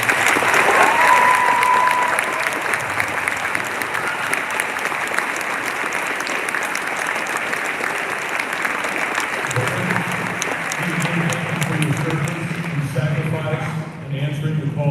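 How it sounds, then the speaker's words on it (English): Sustained audience applause fills a school Veterans Day program honoring veterans, dense clapping from a large crowd in a hall, steady and loud throughout, with a voice speaking briefly near the end. "Let's please honor them with our applause."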